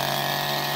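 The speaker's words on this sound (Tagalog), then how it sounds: "nagawa yung grass cutter yung kanyang mekaniko. Napakaganda ng andar ngayon at tuntua si Ron gamitin." A repaired grass cutter engine runs steadily at high revs, a loud, close, continuous buzzing drone with no pauses.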